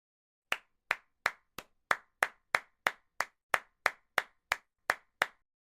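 Single person clapping in a sprint review meeting room, about fourteen sharp, evenly spaced claps, close and clear against silence.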